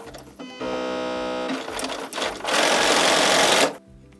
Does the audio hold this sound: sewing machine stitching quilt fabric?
yes